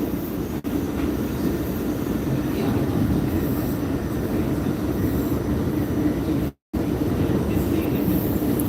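A Staten Island Railway express train runs at speed, a loud steady rumble and roar of wheels on rails from inside the car, with one brief dropout near the end.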